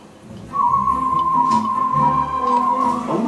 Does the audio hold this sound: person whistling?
yes